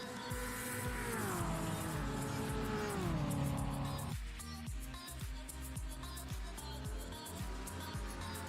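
An LMP2 race car in a sim racing endurance championship rejoins the track, its engine sweeping down in pitch then rapidly climbing through gear changes in quick repeating rises, close and steady with faint commentary under it.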